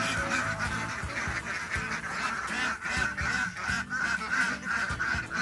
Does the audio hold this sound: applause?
no